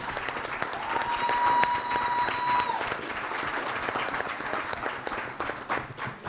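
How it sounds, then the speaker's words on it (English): Audience applause at a US-Africa nuclear energy summit in Kenya, a steady wash of clapping from a crowd that holds for the full stretch at even loudness, with faint voices and a brief tonal whine mixed in. "Y'all better clap louder."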